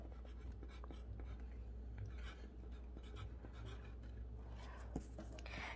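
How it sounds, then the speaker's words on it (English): Pencil marks being rubbed off a paper teacher-appreciation card with an eraser, a soft continuous scratchy scrubbing with small bursts, close and fairly quiet. "Oh, I accidentally write that. I'm gonna erase it."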